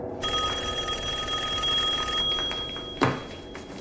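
A telephone rings with a sustained electronic bell tone that stops abruptly, followed by a brief clunk as the handset is picked up in a quiet room.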